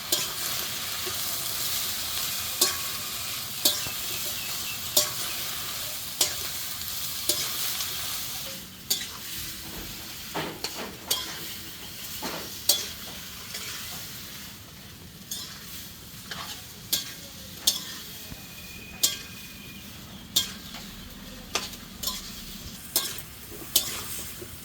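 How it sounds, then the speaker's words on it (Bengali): Taro stolons (kochur loti) stir-fried with green chilli, garlic paste, turmeric and salt, a low sizzle punctuated by regular sharp scrapes and knocks of a spatula against the pan. "কচুরলতি কষানো হয়ে গেছে"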